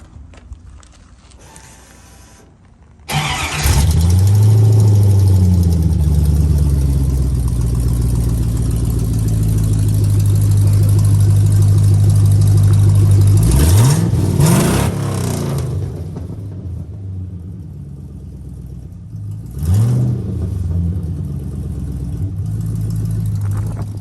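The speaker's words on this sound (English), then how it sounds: "Thrush glass packs with an H-pipe and an exhaust leak." A 6.1 Hemi Dakota with Thrush glasspacks, an H-pipe and an exhaust leak fires up after a quiet moment, settling into a loud, deep burbling idle with a couple of sharp revs blipping through.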